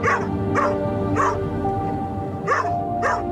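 Trainee assistance dogs bark at a school, five loud, close barks spaced irregularly over a steady hum of room noise.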